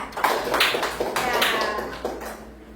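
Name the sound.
class clapping for a group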